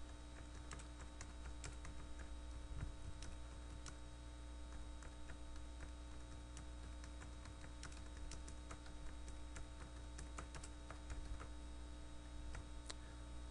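Steady typing on a computer keyboard, composing Spanish text for a text-to-speech tool, with a continuous run of close, crisp key clicks over a low mains hum and no talking.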